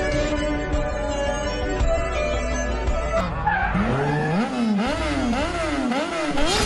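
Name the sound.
motorbike racing, tires skidding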